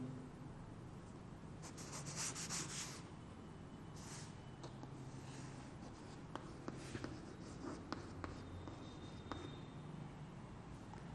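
Chalk or marker scratching across a board in a classroom lecture on electron affinity, with steady rubbing strokes and a few brief taps over a low room hum, and no talking.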